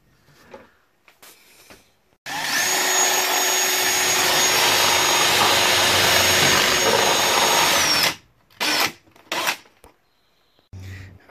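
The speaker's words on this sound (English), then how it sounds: "I'm going to go ahead and run my 7/16 drill up through this hole" A loud, steady power drill with a 7/16 bit whines continuously for several seconds boring up through a vintage travel trailer roof, then stops abruptly, followed by a few short clunks and rustles.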